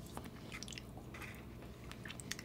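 Crisp, crunchy chewing of makgeolli-flavored twisted snacks up close, with repeated small crackling bites and crumbling snaps in a steady rhythm, no talking.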